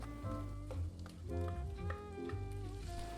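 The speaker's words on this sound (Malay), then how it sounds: "Tumis bahan kisar tadi sehingga masak dan sedikit garing" Steady sizzling of a ground chili-onion paste frying in hot oil, with light stirring, over a continuous hum.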